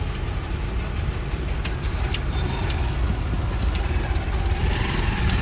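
Car engine running nearby, a steady loud rumbling drone with constant low-end roar and no break, heard alone.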